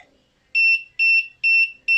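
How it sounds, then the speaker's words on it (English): An intruder alarm on an Arduino-based PIR motion-sensor detection system sounds a loud, piercing electronic beep that repeats four times in a regular pulsing rhythm, heard up close with no talking. "the moment the motion is detected, it switched from standby mode to automatic alarm system"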